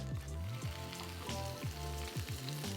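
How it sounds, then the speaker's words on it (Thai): Spinach is stir-fried in a pan: a soft, quiet sizzle with a few brief scraping strokes as the leaves are tossed. "เดี๋ยวเราจะมาผัดปวยเล้งหรือว่าผักโขมนะครับ ก็จะใส่ผักลงไปเลย"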